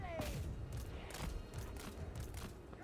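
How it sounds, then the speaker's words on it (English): Cannons fire in a video game battle, with scattered booms and thuds going off in quick succession over several seconds, faint and somewhat muffled, mixed with background game sounds. "Cannons are doing great."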